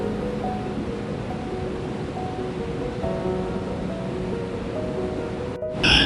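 Running river water where bears catch salmon, a steady broadband rush of flowing water with no talk, continuous and fairly close, ending in a brief louder splash.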